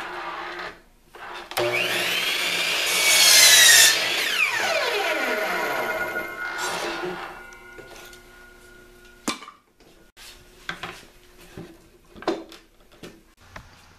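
A power saw cuts a wooden rib for a dome ceiling held in an arc jig, rising into a loud whining cut, then winding down into scattered clunks and knocks of the workpiece and tools nearby.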